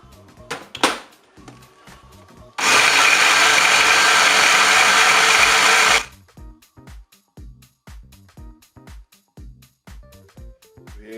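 A Cookeo food processor chops mushrooms, tomato flesh and onion in one loud continuous whir lasting a few seconds, bracketed by quieter clicks and knocks before and after.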